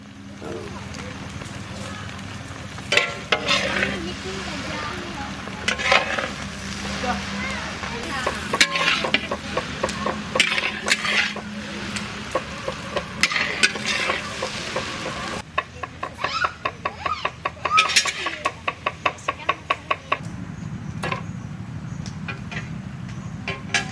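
Egg chowmein with chaat masala sizzles and fries in a large village wok while a spatula scrapes and clatters in quick repeated strokes, with people talking over the cooking.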